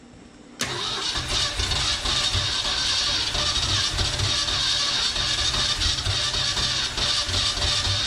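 Engine noise from a 1969 Ford F-250's 360 V8 after sitting twenty years, as it cranks and tries to catch. The steady rough churning starts abruptly and runs loud and close without a break, with no voices over it.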